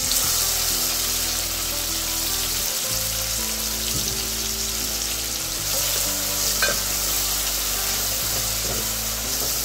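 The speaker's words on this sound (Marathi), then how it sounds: "फोडणीसाठी कांदा टाकू।" Chopped onion sizzles steadily in hot oil in a kadhai while a masala tempering is being made, a dense continuous frying hiss with brief stirring clatters, close up and with no talk.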